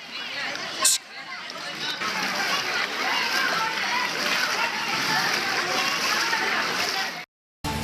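Splashing and sloshing as people wade through flooded, rain-filled streets, with a steady wet churn throughout and faint voices mixed in, cutting off briefly near the end.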